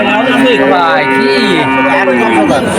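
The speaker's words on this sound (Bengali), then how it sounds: "এইটা হলো শাহিওয়াল বাছুর, শাহিওয়াল।" A Sahiwal calf at a village cattle market gives a loud, close, drawn-out moo, a wavering bellow that fills the whole moment with other voices faintly around it.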